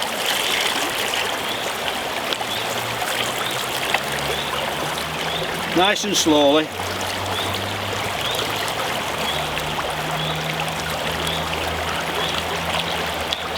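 Stirred river water is decanted from a bucket through a sampling net during river fly sampling, a steady trickling pour lasting throughout, with a person speaking briefly partway through.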